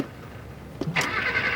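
A car engine cranks but fails to start in a 1991 Hong Kong drama scene. After quiet, a brief mechanical burst comes, then a sustained whine, moderately near, with no speech.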